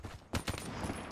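The KN-44 assault rifle fires a quick burst of three or so rapid shots in Call of Duty: Black Ops 3, loud and close over dense game noise.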